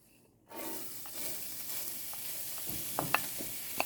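Mushrooms, onions and carrots hit hot olive oil with an abrupt burst of sizzling after half a second of quiet, then a steady close hiss carries on with a few light scrapes and taps.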